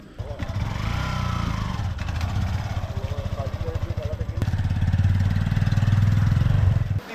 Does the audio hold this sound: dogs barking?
no